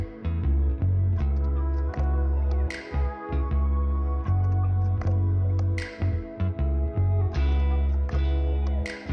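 Electronic beat from FL Studio: a deep kick drum pulsing under a looped melodic sample, with bright percussive hits on top, steady rhythm and full, loud mix with no voices.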